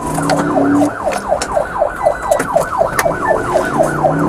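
A police car siren wails in a fast, repeating up-and-down yelp during a pursuit, loud and close, with a brief low horn-like tone at the start and end.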